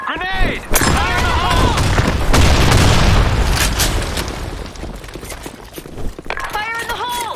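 A video game grenade blast booms loudly, with a sustained rumbling roar and debris, amid gunfire and running footsteps, while voices shout over the action before and after.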